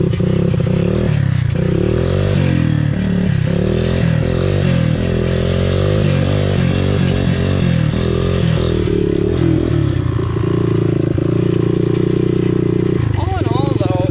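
A Honda 200X motorcycle rides over bumpy ground, its engine droning loudly and continuously with shifting revs, rattles and clatter from the rough terrain.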